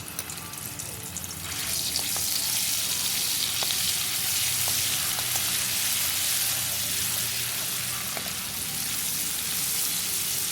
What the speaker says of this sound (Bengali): প্রথমেই আমি 1 চামচ গুঁড়ো হলুদ একটু জলে ভিজিয়ে পেস্ট মতো করে সেই হলুদটা দিলাম।